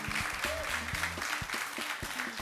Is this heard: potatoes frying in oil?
no